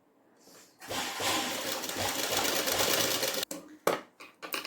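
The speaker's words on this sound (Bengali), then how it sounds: "এবার আমি একটা সেলাই দিয়ে দেবো।" A sewing machine stitching a padded blouse, running in one continuous rapid whirring burst for about three seconds, then stopping and restarting in short bursts, close and clear with no talk.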